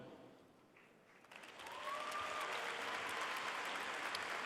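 An audience at a 2019 high school graduation breaks into applause that swells from scattered clapping into a steady, sustained roar, heard from a distance across the venue.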